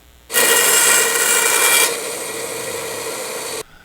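A power saw cuts through round wood stock, starting abruptly with a loud, bright whine that eases slightly partway through, runs steadily for about three seconds and then stops sharply, close up and alone.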